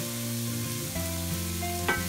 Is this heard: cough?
no